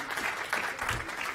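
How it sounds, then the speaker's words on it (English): Audience at a school board recognition meeting clapping together, a steady patter of applause that fills the room, moderately loud throughout with a soft swell in the middle. "this is our applause"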